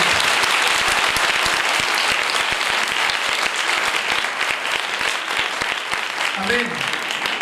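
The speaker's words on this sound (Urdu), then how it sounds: "یسوع مسیح کے لیے زوردار تالیاں بجاتے ہیں" A church congregation at a sermon claps hard and fast for several seconds, a dense, loud, close wall of applause, with a voice talking faintly beneath it near the end.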